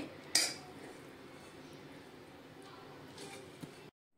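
A metal utensil clinks sharply against a plate as mutton rakti is served, followed by faint scraping and a second soft clink, close by in a quiet kitchen.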